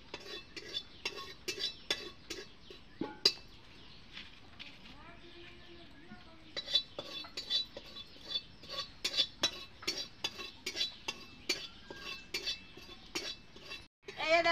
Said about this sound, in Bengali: আমি এইভাবে ভাজে নিচ্ছি এরকম লাল লাল করে